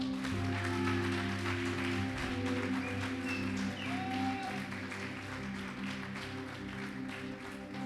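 A church congregation applauds during a sermon, a steady mass of clapping at moderate level over sustained low musical tones, continuous throughout.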